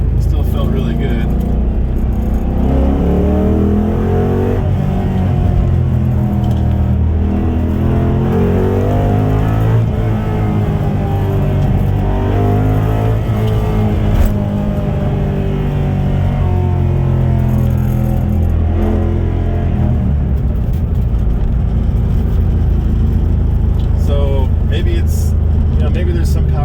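A car with a Ford 4.6 3V engine, fitted with an electric water pump and electric steering, drones and revs while driving. The engine note rises and falls loudly throughout, with cabin rumble and a person talking over it.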